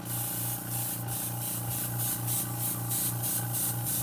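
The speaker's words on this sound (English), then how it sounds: "Want to spray it out just a little bit." Water sprays steadily out of a part being cleaned in a home shed workshop, a loud, continuous hiss that pulses in a quick, regular rhythm throughout.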